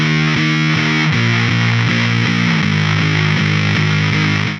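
Heavily distorted electric guitar chords grinding loud and sustained beneath a higher melodic line, a steady wall of fuzz with rhythmic chord changes and no voice.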